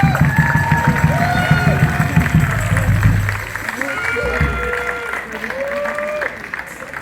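A festival crowd at a banda music gathering applauds and cheers, lively clapping at first that thins out, with voices and cheering mixed in throughout.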